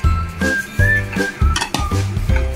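Banana cake batter with butter being mixed in a bowl, heard as repeated rhythmic scraping and clinking of a utensil against the bowl, close and fairly loud, with a faint whistling tone and no talking.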